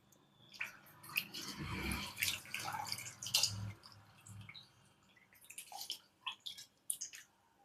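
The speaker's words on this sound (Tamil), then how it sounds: "தண்ணியில் போட்டுட்டு நம்ம வாஷ் பண்ணி எடுத்துடணும்" Sliced potatoes being rinsed by hand in a bowl of water, with soft splashes, drips and wet squishing coming close and in uneven bursts, fading to a few scattered drips toward the end.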